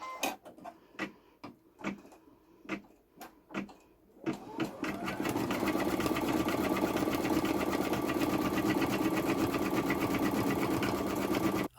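An embroidery machine stitching a photo starts with a few separate clacks, then settles into a steady, rapid mechanical chatter that runs on continuously and close.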